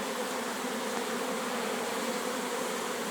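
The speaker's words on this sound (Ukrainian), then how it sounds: "Пасіка загуділа по-справжньому." Dense, steady buzzing of many honeybees at an apiary, a continuous droning hum filling the air with no pauses.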